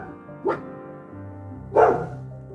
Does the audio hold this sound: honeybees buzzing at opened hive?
no